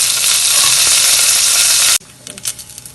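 Spices such as cumin seeds, dried red chilies and curry leaves spluttering loudly in hot oil while tempering for mor kuzhambu, an intense crackling sizzle that cuts off abruptly into quieter scattered pops and clinks.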